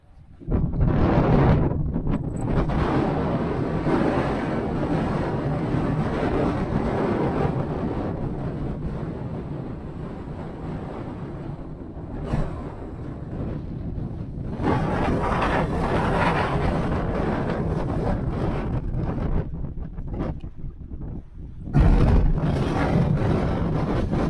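Strong wind roars across the microphone on an exposed hilltop track in the Serpentine area of Central Otago, a loud, steady rush that dips briefly in places before gusting back hard.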